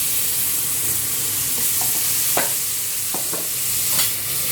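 Cooked pasta being tossed and stirred with butter in a pan, a steady soft sizzle with a few clinks and scrapes of the utensil, close and moderately loud, no talking.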